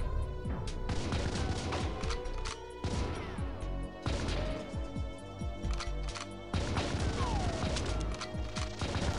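GoldenEye video game gunfire in a netplay match: steady, rapid, repeated shots in dense bursts with impacts and crashes, loud and continuous throughout, with faint talk underneath.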